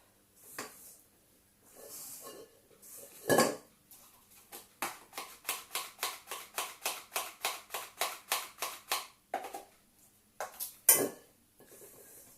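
A spatula folds flour into whipped egg whites in a bowl for ladyfinger biscuits, giving a close series of soft, evenly spaced scraping taps with a few louder knocks and brief pauses.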